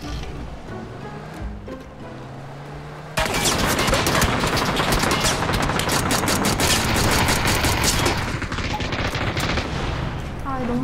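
Dense, sustained gunfire from a shooter video game erupts suddenly after a quiet stretch, rapid automatic bursts and overlapping shots filling the mix loudly and continuously for several seconds.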